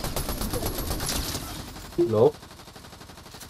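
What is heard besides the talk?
gunshots from the video game Fortnite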